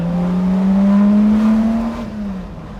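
A Lamborghini Miura supercar's engine drones loudly and steadily as it pulls along a road lined with trees, pitch climbing slightly before easing off near the end.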